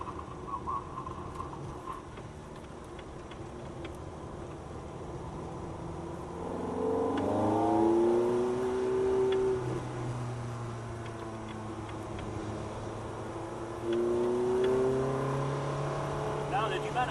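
A Ferrari F430 lapping a track, heard from inside as the engine drones and twice rises in clear revving sweeps under a steady road roar, with French speech over it.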